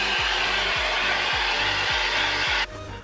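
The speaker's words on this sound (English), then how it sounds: "I'm gonna go in with the hairdryer and heat them up" A hair dryer runs steadily and loud, blowing hot air over foam armour pieces while a faint rhythmic thump repeats underneath, then the airflow drops abruptly near the end.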